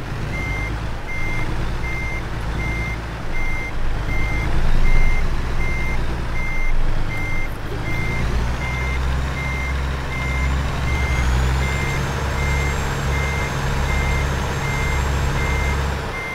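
A truck in American Truck Simulator backs up a trailer with a steady, evenly spaced reversing beep over a loud, continuous engine rumble that deepens partway through.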